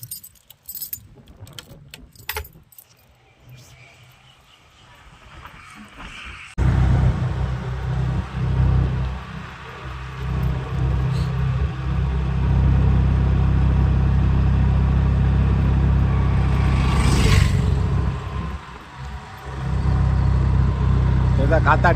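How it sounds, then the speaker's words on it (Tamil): Keys jangle briefly before a car engine starts abruptly and settles into a steady, close idle for the rest of the span, with a voice speaking over it. "வண்டி ஆன் பண்ணிட வேண்டியதான்."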